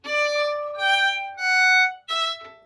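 A fiddle plays the first phrase of the B part of the tune Shoe The Donkey, four bowed phrases of bright sustained notes with short gaps, close and clear with no talking.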